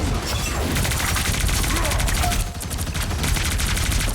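Rapid gunfire in the video game Marvel Rivals, loud and continuous bursts of shots over the whole stretch, with a player talking excitedly over the fire.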